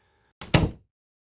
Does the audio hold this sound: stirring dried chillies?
no